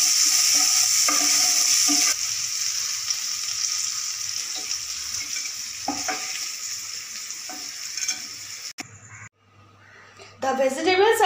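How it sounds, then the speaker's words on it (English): Vegetables with bitter gourd deep fry in hot oil in a pan, giving a continuous bright sizzle with occasional stirring scrapes, the frying cutting off briefly near the end before resuming. "The vegetables are all deep fried now."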